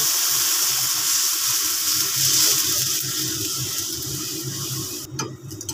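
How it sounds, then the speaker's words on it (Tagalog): Water boiling in a pot for sinigang, a steady close bubbling hiss with a soft rolling rumble underneath, ending with a brief clatter, with no one speaking. "Ayan, kumukulo na."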